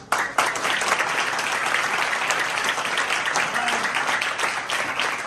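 A church congregation claps steadily in dense applause during a sermon, loud and sustained for several seconds, with faint voices mixed in.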